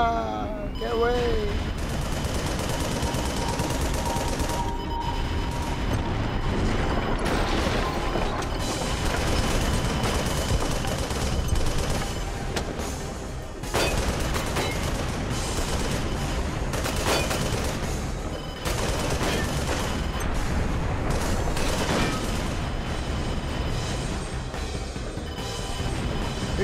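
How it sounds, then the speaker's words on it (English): Gunfire in the video game Project Nimbus: dense, continuous bursts of shooting and mechanical clatter with booming hits, loud and sustained throughout with only brief dips. "Who's still shooting at me?"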